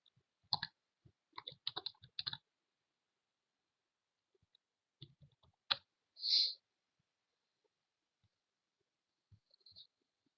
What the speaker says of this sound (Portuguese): Vai clicar aqui em acesso, colocar o seu nome de usuário e senha.